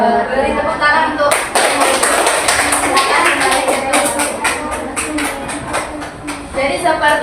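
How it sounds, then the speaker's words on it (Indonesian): Students in a junior high school classroom break into sustained hand clapping for a teaching-practice session, a dense run of sharp claps lasting several seconds, with voices mixed in around it. "Beri tepuk tangan untuk"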